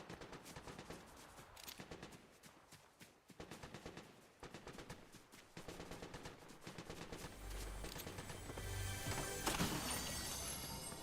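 Fortnite combat gunfire heard at a distance, quick rattling bursts and scattered shots repeating in clusters, fairly faint, with a louder rumbling swell near the end.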